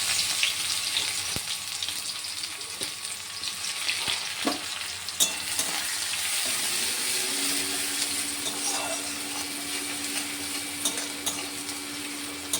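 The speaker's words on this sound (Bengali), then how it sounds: "দেখো কড়াই বসিয়ে দিয়েছি, তেলও গরম হয়ে গেছে। এবার দিয়ে দেবো পেঁয়াজগুলো।" Onions fry in hot oil in a wok, giving a loud, steady sizzle for the whole stretch with occasional clinks and scrapes from stirring, and no one speaking.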